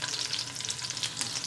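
Close, steady sizzle and crackle of garlic frying in oil in a pan, continuous and fairly soft with no talking.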